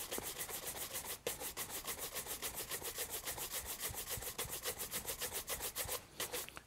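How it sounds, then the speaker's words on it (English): A shoeshine brush buffs wax polish off a shoe in fast, brisk strokes, a steady run of close, rhythmic rubbing swishes that continues with only one brief pause. "So this first layer of wax polish, I'm going to buff off using my shoeshine brush."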